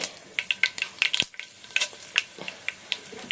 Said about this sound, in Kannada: ಇವಾಗ ಎಣ್ಣೆ ಬಿಸಿ ಆದ್ಮೇಲೆ ಸಾಸಿವೆ ಹಾಕೊಳ್ತಾ ಇದ್ದೀನಿ